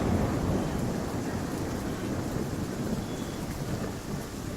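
Steady heavy rain with rumbling thunder, a dense continuous roar filling the whole stretch at constant loudness, with no voices.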